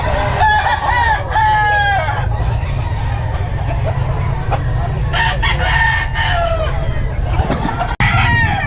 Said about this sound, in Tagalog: Maraming manok ngayon mga kabiyahe.